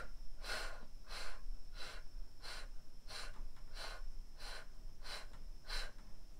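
Breathy exhales during pelvic floor exercise pulses: about ten short, rhythmic puffs of breath, evenly spaced and close, with faint room hiss between them.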